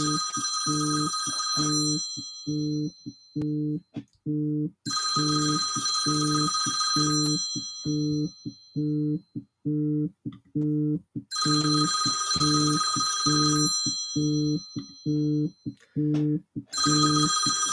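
Telephone bell rings in repeated bursts of about two seconds with brief pauses, loud and close, with no talking over it.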